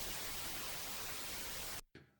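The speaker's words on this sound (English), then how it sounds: "and we have white noise." White noise waveform from a Kawai K3 digital synthesizer, a steady loud broadband hiss that cuts off abruptly near the end, followed by a brief fainter burst.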